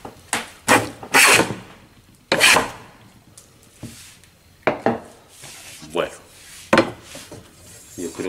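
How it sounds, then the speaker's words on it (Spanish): A hand plane smooths a wooden piece for a Spanish guitar in a luthier's workshop, making a series of about eight sharp, rasping strokes in an uneven rhythm, close and fairly loud. "Como veis, el cepillo va suave."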